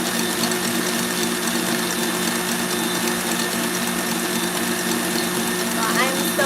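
Stand mixer whipping macaron meringue to stiff peaks at speed 8, a steady continuous mechanical whir with a constant hum throughout, close and unbroken.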